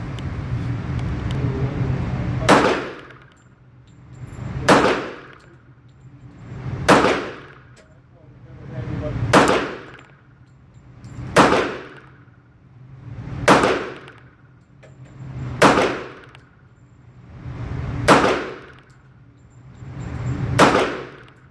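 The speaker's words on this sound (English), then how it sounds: "We'll be shooting 100 rounds today, and this is the first 100 rounds through it" A stainless Bul Armory SAII Tac Commander .45 ACP pistol fired at an outdoor range, with nine loud, sharp shots spaced evenly about two seconds apart and a ringing decay after each.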